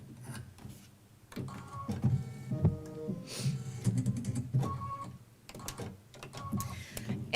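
An embroidery machine stitches stippling in white thread on printed fabric, a busy rapid mechanical chatter with whirring motor tones running steadily throughout.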